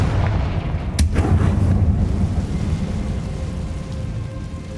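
A Confringo blasting spell cast in a Harry Potter video game, one heavy booming explosion about a second in, followed by a long rumbling roar that slowly fades, loud and without voices.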